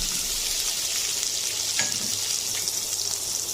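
Onions frying in hot oil in a pan give a steady, loud sizzle throughout, with a faint stir or clink partway through and no voices.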